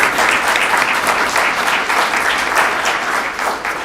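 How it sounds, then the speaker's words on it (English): A school board meeting audience applauds an honoree, dense sustained clapping from a roomful of people, loud and even for several seconds before easing slightly. "And let's give him another round of applause."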